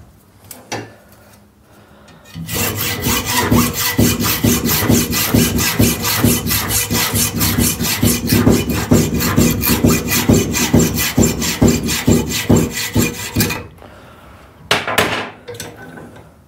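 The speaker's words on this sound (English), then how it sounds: "Say you wanted to cut that bolt down, you could screw that in all the way." A bolt is cut down with a hand saw in rapid, even back-and-forth strokes, loud and close for about eleven seconds, with a few light handling knocks before and after.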